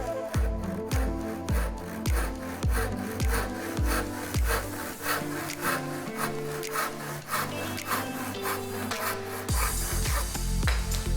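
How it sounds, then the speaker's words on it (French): A hand saw cuts a wooden support slat to size for a folding workbench, rhythmic rasping strokes close and loud, with a few sharp knocks and a brief pause before sawing resumes. "Sciez cette latte sur mesure."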